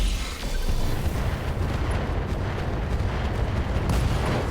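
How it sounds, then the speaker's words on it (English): Ammo explosion destroying a mech in the video game RogueTech, a heavy rumbling blast with a dense low boom that rolls on continuously at a loud level, without talk. "Oh, ammo explosion?"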